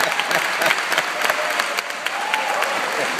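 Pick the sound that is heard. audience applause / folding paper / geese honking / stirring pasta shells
audience applause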